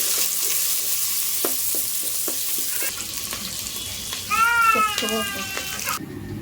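Onions fry in hot oil with bay leaf and dry spices for a pulao, a continuous sizzle broken by repeated spatula taps and scrapes against the pan; a brief whistle-like tone sounds near the end.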